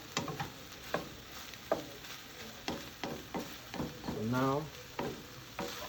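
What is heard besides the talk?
stirring simmering meat in a pan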